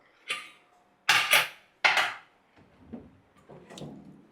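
Cooled pressure cooker lid being unlatched and lifted after cooking cabbage masala rice: three sharp metallic clanks close together, followed by softer scraping and knocking of the lid.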